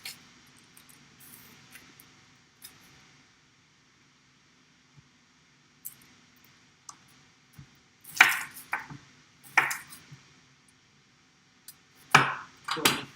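A knife chops shallot on a cutting board in short clustered bursts of close, crisp thuds, separated by quiet stretches with faint handling clicks.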